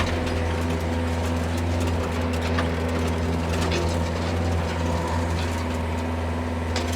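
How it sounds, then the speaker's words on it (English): A 1999 Bobcat 331 mini rubber-track excavator tracks and swings its house at once, a loud, steady engine and hydraulic drone with constant low hum and clattering overtones throughout. "You can see I'm tracking and spinning the house at the same time."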